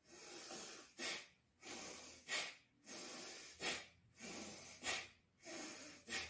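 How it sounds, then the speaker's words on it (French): Slow, deliberate breathing in and out through the nose, close and quiet, with about five paced cycles of soft airy inhales and sharper exhales and no talking. "J'inspire à travers le nez. J'expire à travers le nez."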